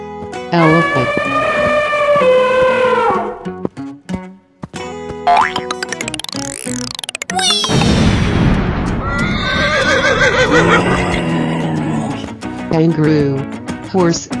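A horse neighs in a long whinny alongside clip-clopping hooves, loud and close, with a springy boing effect and other sound effects mixed in.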